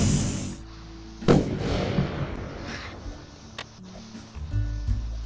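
A sharp explosive blast from a bomb in the video game Lumber Tycoon 2 bursts out and fades in a rumbling decay, followed by smaller pops and thuds in a game-like soundscape.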